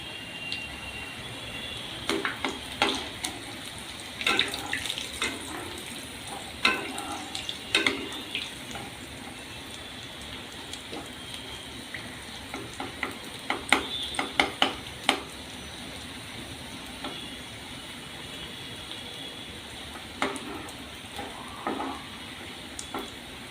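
Cheese bread rolls fry in a pan over a medium gas flame, giving a steady close sizzle punctuated by occasional light scrapes and clinks of a utensil against the pan, with no talk.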